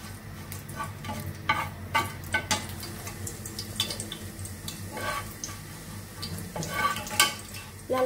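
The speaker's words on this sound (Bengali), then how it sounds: "লাল লাল করে মরিচগুলো ভেজে নেবো" Dried red chillies fry in a pan, ready for mashing, and a spoon scrapes and stirs them in repeated bursts over a continuous nearby sizzle.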